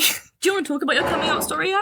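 A single sharp sneeze bursts out at the very start, followed by a brief pause and then a person speaking at close range on a casual podcast.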